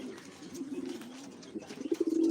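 Pigeons let out in the afternoon coo in soft, repeated low throaty phrases that swell louder toward the end, alone with no talking.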